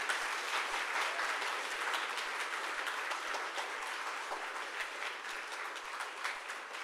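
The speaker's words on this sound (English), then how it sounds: "All right, clap." A conference audience applauds after a Ruby programming talk, steady, even clapping from a crowd that holds at moderate level for several seconds with no speech.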